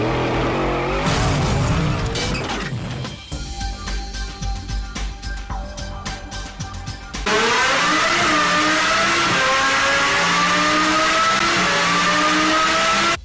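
A second-generation Audi R8 with the 5.2 V10 and a Secret Weapon Fab exhaust revs hard, with rising engine sweeps, choppy throttle blips and then a sustained loud, climbing wail at full tilt.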